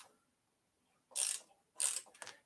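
Two short bursts of close ratcheting clicks come as a bolt is tightened on a Cyrusher Kommoda step-through e-bike, each separated by a quiet pause.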